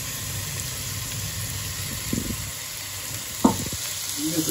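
Ginger paste frying with curry leaves in hot oil for a spicy egg curry, a steady close sizzle with a couple of brief clinks of a utensil against the pan.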